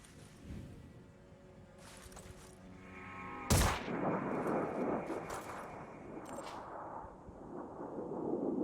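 Gunfire in the turn-based tactics game Phoenix Point during a raid on a Disciples of Anu base: a sharp, loud shot cracks out midway, followed by a rumbling, debris-filled roar and scattered smaller bursts, with faint earlier shots before it.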